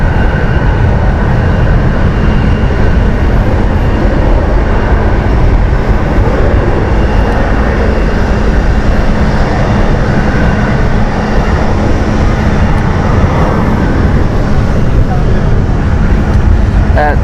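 A Finnair airliner passes on a hot day at Amsterdam Schiphol Airport, making a loud, continuous roar that fills the whole stretch with little change in level.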